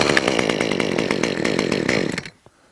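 A gas chainsaw engine on choke runs in a loud, rough, rapidly pulsing burst for about two seconds, then cuts out abruptly into near silence with one faint knock.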